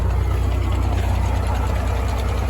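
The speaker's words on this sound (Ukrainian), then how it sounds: "І прекрасно все працює. Тракторець працює" A YuMZ tractor engine running at a steady idle, a low rhythmic diesel thrum with a mechanical rattle, constant and close throughout with no voices.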